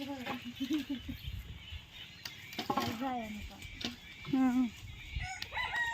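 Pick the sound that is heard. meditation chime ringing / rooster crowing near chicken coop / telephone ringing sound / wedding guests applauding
rooster crowing near chicken coop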